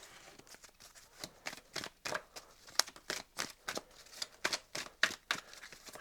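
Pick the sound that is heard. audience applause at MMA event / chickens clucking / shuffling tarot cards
shuffling tarot cards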